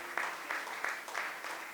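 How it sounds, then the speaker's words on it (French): Audience at a Cyprus worship production launch event applauding and cheering, a steady wash of clapping with rhythmic swells of crowd noise, close and continuous with no talk over it. "Est-ce qu'on peut continuer à acclamer?"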